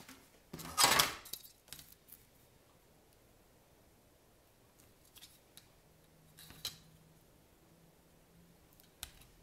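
Scissors snip through paper card in one sharp, close cut near the start, followed by a few faint clicks and rustles in an otherwise quiet room.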